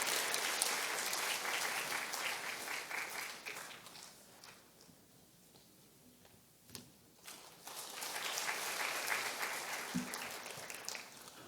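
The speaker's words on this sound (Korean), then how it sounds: "박수로 인사 발음하겠습니다" A church congregation applauds to greet departing members: two sustained bursts of clapping from a crowd, filling the room, separated by a quieter lull with a few footsteps and taps.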